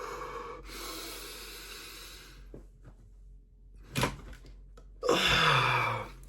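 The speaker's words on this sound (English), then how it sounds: "once you got all that air, you want to take one more quick inhale" One person takes a long full inhale through the nose, pauses, then adds a second short sharp sniffing inhale, close and breathy with faint room clicks between.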